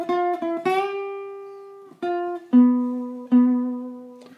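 Guitar playing a lick, a clear solo phrase of plucked notes with sustained ringing tones and short pauses between attacks.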